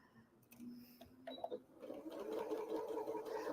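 A sewing machine chain-pieces a quilt block at a quarter-inch seam, starting with a few clicks and then settling into a steady, close mechanical whir.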